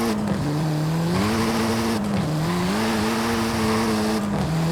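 A Mini John Cooper Works GP, a front-wheel-drive turbocharged four-cylinder, in Forza Horizon 5: the engine drones loud and steady, pitch dipping and climbing with gear changes, alongside faint tyre noise and no talking.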